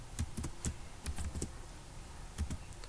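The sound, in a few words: typing Java code on a computer keyboard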